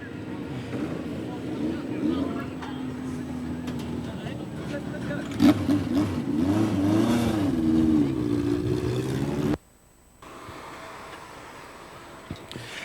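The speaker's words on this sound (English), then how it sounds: "Couple victory donuts there for our new West Australian state champion." A Legend race car at a Western Australian state title meeting spins victory donuts, its engine droning and revving with rising and falling pitch beneath continuous race commentary, then cutting off abruptly near the end.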